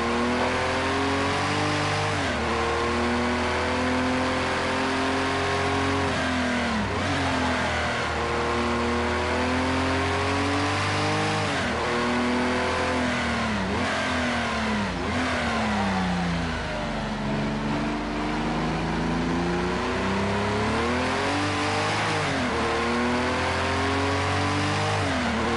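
A Gr.6 race car engine in the racing game Project Cars 2 revs loud and steady, rising and falling in pitch through repeated gear changes and acceleration over a long stretch, with no talking.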